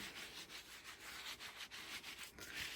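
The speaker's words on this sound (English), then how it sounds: "I'm going to take my vintage photo and I'm just going to rub over it" A hand rubs steadily over a vintage photo, a soft, close scratchy rasp with a repeating back-and-forth rhythm, faint and alone.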